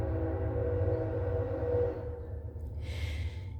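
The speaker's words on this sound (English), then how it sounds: "And I think the train is coming" A train rumbles past with a steady low roar and clattering, followed by a brief bright hiss or squeal near the end, fairly loud and with no talking.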